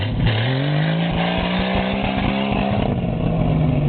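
A stripped 1976 Toyota Land Cruiser FJ45 with relocated radiators revs hard off-road, its loud engine note rising then holding a strained drone with rapid rough pulses, close and continuous without talking.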